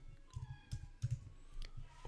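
Someone types on a computer keyboard in quick, soft bursts of clicking keystrokes, close and fairly quiet.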